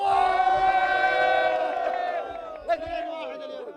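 Moroccan football fans fill Khalifa stadium with loud sustained chanting, many voices holding long sung notes in unison, with a brief shout rising near the end.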